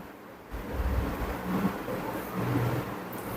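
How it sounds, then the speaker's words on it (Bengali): Onions frying in a pan with salt added, a steady broadband hiss and sizzle that swells after a quiet start and runs on without pause. "পেঁয়াজটা একটু ভেজে নিচ্ছি এবং প্রথমেই লবণ দিয়ে দিচ্ছি"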